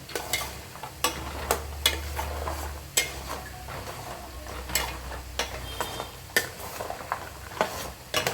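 A spoon repeatedly scraping and stirring a jaggery mixture with dry ginger powder in a pan while making sharkara varatti, quick clicking strokes at an irregular rhythm over a low hum, close by with no talking.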